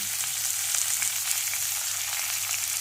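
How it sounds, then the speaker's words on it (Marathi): Onion sautéing in a pan for a puffed-rice dosa recipe, giving a steady, close frying sizzle with bright crackle throughout and no talking. "कांदा एक 2 मिनटं परतू द्यायचा"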